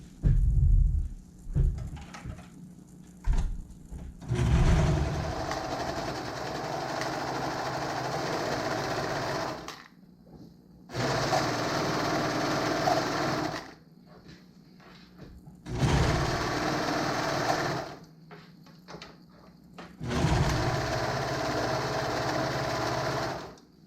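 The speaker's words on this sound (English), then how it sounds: "I'll go ahead and sew it with a 1/2 inch seam allowance" A sewing machine stitches a cardigan neckband seam at a 1/2 inch seam allowance, running in several steady buzzing stretches of a few seconds each, separated by brief pauses, loud and close with no voices.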